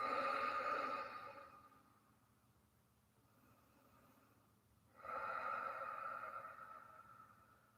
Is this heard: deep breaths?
yes